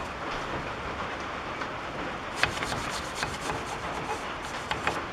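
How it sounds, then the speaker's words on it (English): A wire brush scrubs light rust from the rear hub face of a 2014 Chevy Silverado during a brake job, with quiet background hiss and then rapid, gritty back-and-forth scraping strokes up close. "We'll just take a wire brush,"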